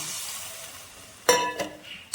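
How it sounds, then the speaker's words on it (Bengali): Water poured into a hot pan of frying cauliflower and spice mixture, with steady sizzling that flares into a sharper hiss and splatter near the end, close and fairly loud with no talking. "এবার জল দিয়ে দিলাম।"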